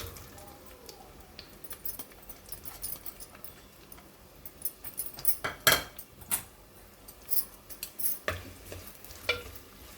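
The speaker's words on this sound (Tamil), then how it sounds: "வெங்காயத்தை நல்லா கொஞ்சம் ஃப்ரை பண்ணிக்கோங்க" Sliced onions sizzle in hot oil for a homemade fish curry, with a steady soft frying hiss and scattered sharp clinks and scrapes of a utensil stirring in the pan, close by.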